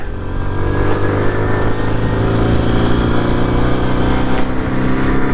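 A 1997 Honda C50 small motorcycle engine hums steadily while riding in second gear at around 60 km/h, a loud continuous buzzing drone with a faint rise in pitch.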